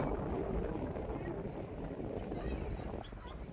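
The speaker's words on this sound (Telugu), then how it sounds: "ఈ హోల్స్ లో నుంచి గాలి వస్తుంది" Steady, rushing wind blowing through holes in a fort wall buffets the microphone throughout, loud and continuous, with faint murmurs in the background.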